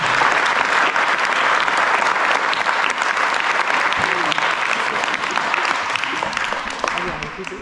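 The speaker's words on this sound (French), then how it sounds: "on peut applaudir Daniel" Loud, sustained applause from an audience at a judo club's 45th anniversary celebration, a dense wall of clapping that continues steadily and tapers slightly at the end.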